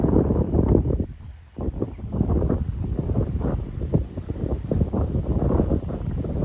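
Strong wind roars and buffets the microphone in constant gusts, a dense rumbling rush with no voices.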